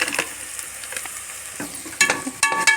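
Spices and biryani powder with turmeric and garam masala sizzle and crackle in a hot pan, with scraping stirring strokes and bursts of louder frying toward the end.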